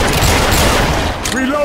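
Machine gun fire in the video game Left 4 Dead 2: a loud, continuous close burst of rapid shots that dips briefly near the end, where a voice cuts in.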